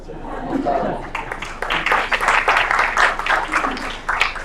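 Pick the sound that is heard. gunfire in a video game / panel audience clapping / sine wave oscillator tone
panel audience clapping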